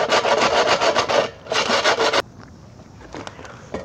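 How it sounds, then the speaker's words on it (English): Rapid back-and-forth sanding strokes on a metal hole in a Weber Smokey Joe smoker build, in two bursts, scratchy and close, then a quieter pause with faint handling noises. "Let's see if sanding this down helps at all."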